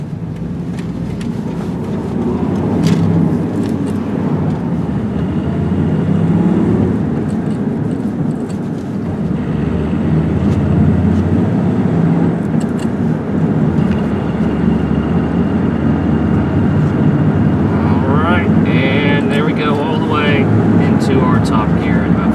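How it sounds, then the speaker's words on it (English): A truck cruises in top gear at about 50 mph on a straight road. Steady engine drone and road rumble fill the cab throughout, with someone talking over it. "Road noise isn't really loud, you know, it is a truck"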